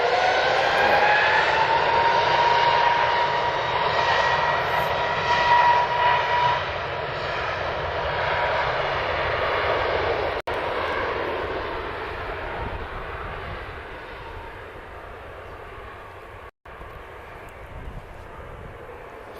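At Lisbon Airport an airliner takes off, its jet engines giving a broad roaring rumble that is loud at first and slowly fades into the distance over about twenty seconds.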